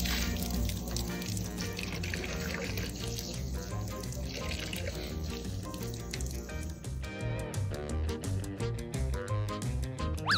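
Water runs and drips steadily from a shower onto a pet sitting in a bath, a continuous close trickle with small splashes and no voices.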